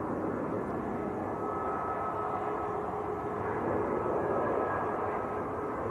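Lufthansa Airbus A319 in Star Alliance livery arriving at Manchester Airport from Frankfurt, heard as a continuous broadband jet rumble with a faint whine, steady and moderately loud for several seconds.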